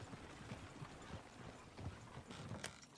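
Horses in the Red Dead Redemption II video game trot with faint, irregular hoof clip-clops, blended with creaking tack and soft background noise.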